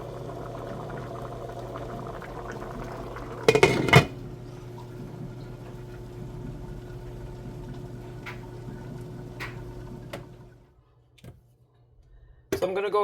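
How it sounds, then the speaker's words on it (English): A pot of water bubbles at a steady rolling boil on high heat, with a brief clatter of cookware partway through before the bubbling fades near the end. "on high heat, it's going to boil for about 5 minutes"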